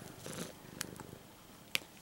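A house cat purrs softly and close for about two seconds, a low fluttering rumble interrupted by a few light clicks and rustles, with no talking.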